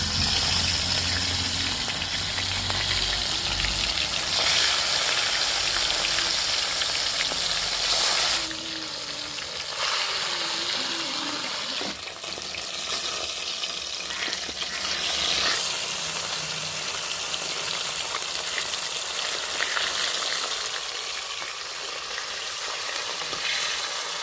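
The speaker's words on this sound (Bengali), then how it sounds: "তেল গরম হয়ে গেছে, এবার আমি মাছগুলো ভেজে নেব।" Fish frying in hot salted oil, a loud steady sizzle and crackle throughout with shifting bursts as pieces move in the pan, no talking.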